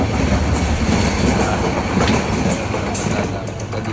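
Passenger train on a rainy trip between Sylhet, Chittagong and Cox's Bazar, a loud continuous rumble of wheels on rails with rhythmic clickety-clack, heard up close from inside or beside the carriage.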